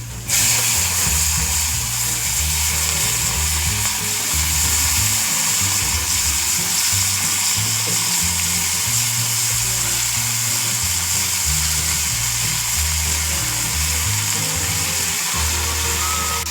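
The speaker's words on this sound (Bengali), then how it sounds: "এই মাছ ভাজার ওই তেলেই সবজিগুলো ছাড়া হচ্ছে" Vegetables drop into leftover fish-frying oil in a wok and fry with a loud, steady, continuous sizzle that fills the whole stretch, close up and without voices.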